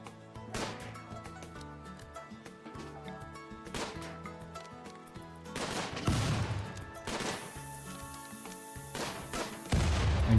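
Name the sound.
gunfire from a video game (Imps versus Zombies)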